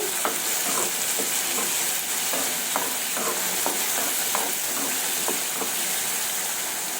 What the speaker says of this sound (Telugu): ఇప్పుడు కలబెట్టుకోవాలి.